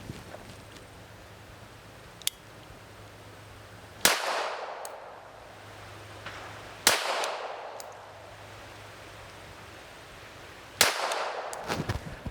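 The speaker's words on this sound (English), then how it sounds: "today we're gonna go everywhere from 5 to about 20 yards and see if we can shoot with this thing" A Taurus PT 25 pocket pistol fires single shots at target practice outdoors, three sharp cracks spaced a few seconds apart, each with a short ringing decay and a fainter click between.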